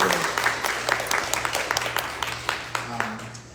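Audience applause in a meeting room after a voting Q&A session, a steady wash of many hands clapping at moderate volume, with a low hum underneath and a faint voice near the end.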